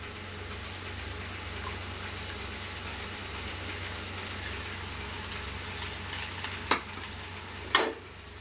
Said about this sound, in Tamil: முட்டையை உடைச்சி ஊற்றிடலாம்.